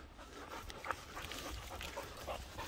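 A dog panting quietly between obedience commands, quick soft breaths repeating in an even rhythm, close but faint, with no talking over it.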